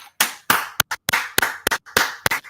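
Someone claps by hand in an uneven run of about ten sharp, close claps, some in quick pairs, with short silences between them and no talking.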